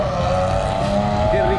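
A Nissan 350Z, being readied for autocross, drives slowly while its steering is tested. The engine gives a steady, close drone with a faint tire noise on top.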